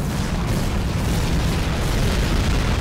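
A tank blown apart by an airstrike in Medal of Honor: European Assault erupts into a loud, sustained booming roar that rumbles continuously with no talk over it.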